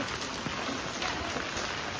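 Steady monsoon rain falls outdoors, a dense, even hiss of drops on surfaces that holds at the same level for the whole stretch, with no voices.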